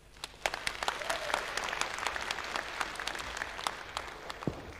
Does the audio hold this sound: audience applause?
yes